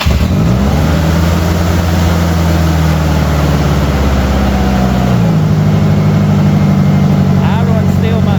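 An old Ford Ranger pickup with a replaced engine starts and keeps running, loud and close, with a steady idle hum that shifts slightly in pitch partway through.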